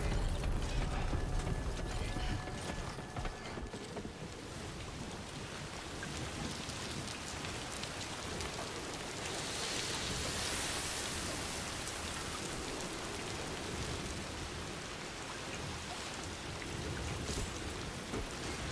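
Steady timefall rain in the video game Death Stranding 2, a soft, even hiss of falling drops lasting throughout, with faint mechanical clatter and footstep-like clopping mixed in.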